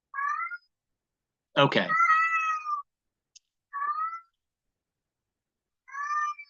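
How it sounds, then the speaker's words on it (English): A male domestic cat, one of several cats in a house, cries with repeated drawn-out meows, four calls with gaps between them, the second longer and louder. A person briefly speaks once. "It's my one cat. He cries a lot."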